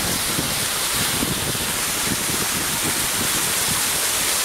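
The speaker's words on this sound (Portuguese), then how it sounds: "Ali desce mais uma cachoeira para o antigo Curtume Berger." A waterfall on the Ribeirão Vermelho stream, where clean water drops toward an old tannery, pours as a steady, dense rushing roar that stays loud and unbroken throughout, with no voices.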